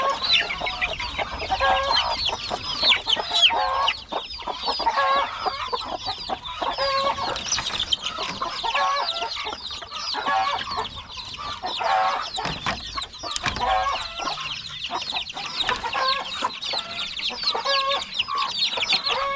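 Backyard flock of pet chickens clucking steadily and busily at close range, with occasional rooster-like calls rising above the continuous chatter; no talk over it.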